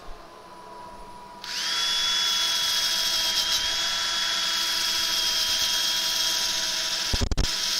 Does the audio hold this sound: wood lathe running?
yes